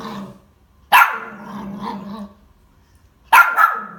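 A dog barks in two sharp, loud bursts separated by a low rumbling growl, close by with quiet gaps between, during an introduction to another dog.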